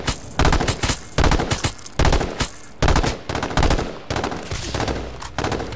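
Rapid gunfire from the battle royale video game H1Z1, loud bursts of automatic and single shots firing in quick clusters with brief gaps between volleys, close and dominant throughout.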